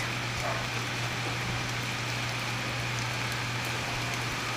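Steady rain pours continuously in a dense, even hiss with a faint low hum underneath and no voices.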